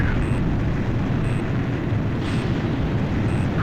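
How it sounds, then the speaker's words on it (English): Missile launches and explosions in the video game Ace Combat 5, from the submarine Hrimfaxi firing burst missiles at close range: a loud, dense, continuous roar with a faint high tone repeating about once a second. "Hrimfaxi launching burst missile!"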